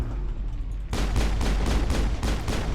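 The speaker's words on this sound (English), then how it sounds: "I was shooting at my own dead teammate" Gunfire in the Mass Effect video game: after a low rumbling lead-in, a rapid string of loud, punchy shots fires in a steady rhythm of about six bursts, dense and close.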